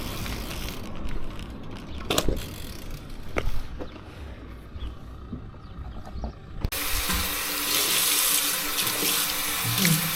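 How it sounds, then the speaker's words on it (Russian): Socks being washed in a sink under a running tap, with intermittent splashing and water noise, then a loud steady gush of running water near the end. "Постирать носки в туалете."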